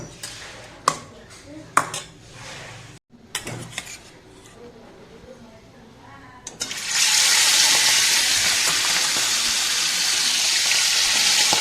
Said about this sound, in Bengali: এবারে চিংড়ি মাছগুলো ভেজে আর কচুটা করে নেবো।